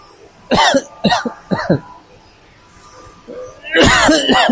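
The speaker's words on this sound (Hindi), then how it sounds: "डस्ट बहुत है तो खांसी आना चालू हो गई।" Three sharp coughs in quick succession from dust near a large machine, a short pause, then a longer, harsher coughing burst, close and loud.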